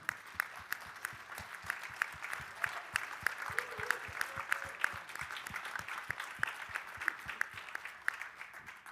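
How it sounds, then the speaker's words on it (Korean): An audience at a Rotary district conference plenary in a Seoul hotel ballroom applauds to welcome guests, a sustained crowd of clapping hands with sharp, fairly regular individual claps standing out near the front, continuing steadily for several seconds. "여러분 다시 한번 미키 아키라 아라이 회장 대리님과 영부인이신 치아루 여사님을 큰 박수로 환영해 주시기 바랍니다"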